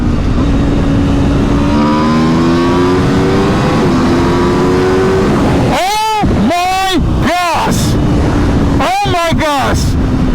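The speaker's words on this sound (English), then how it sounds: "Let's try a quick second gear pull, shall we?" A 2023 Aprilia RSV4 sport motorcycle pulling hard in second gear, its engine note sweeping upward in several rising revs beneath a loud, constant roar of wind rushing past.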